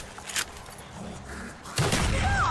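A China Lake grenade launcher fires in Black Ops Zombies: two sharp, booming shots, the first brief and the second heavier and sustained, over a steady low game rumble.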